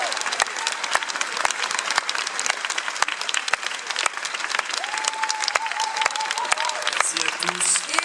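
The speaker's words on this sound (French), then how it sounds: "Vous pouvez encore les applaudir chaleureusement." Conference audience at Polymanga 2014 applauds warmly, steady dense clapping with distinct sharp claps standing out, and a few voices and a brief tone rising over it near the end.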